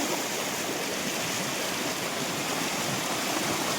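Water rushes steadily and loudly, a constant broad roar like a fast stream close by, with no other sounds.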